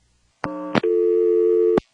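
A short electronic tone burst, a brief click, then a steady flat busy or reorder tone from a 1977 NX1-E telephone exchange, holding for about a second before cutting off.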